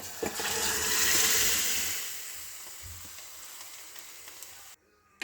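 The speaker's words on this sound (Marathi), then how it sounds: "हा सगळा मसाला शिजलेला आहे आता त्यात टाकू आपण ही शिजलेली डाळ" Cooked toor and moong dal tipped into masala frying with coriander in a pan: a bright, loud sizzle that swells and then slowly dies down before cutting off.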